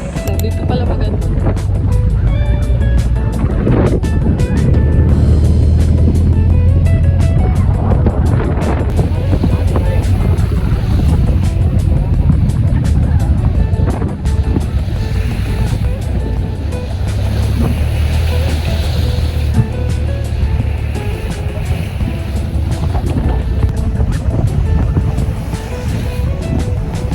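An open 4x4 vehicle rides a trail at Mount Pinatubo around sunrise, with continuous engine drone and heavy wind buffeting on the microphone while people talk over it.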